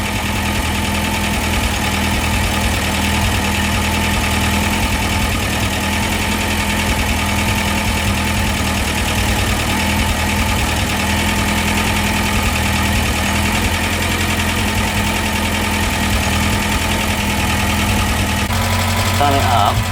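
Talbot Express van engine idling steadily after a new exhaust was fitted, a continuous mid-pitched hum with faint knocking throughout, heard close up, with people talking over it.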